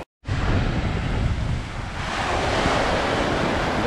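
Mediterranean Sea waves wash onto a Spanish shore under steady wind buffeting the microphone, a continuous loud roar of surf that swells slightly toward the end, with no voices.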